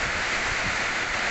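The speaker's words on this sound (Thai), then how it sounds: "ลมกระโชกแรงจ้า" Heavy rain driven by strong gusty wind makes a dense, continuous hiss and roar that stays steady and loud through the short stretch, with no voices.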